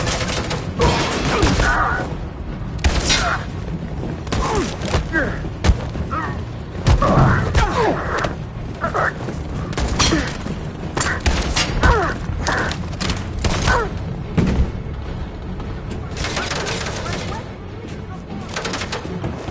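Suppressing gunfire during a firefight in the video game Detroit, rapid bursts and thumping shots crackling over a loud, chaotic mix with voices shouting orders.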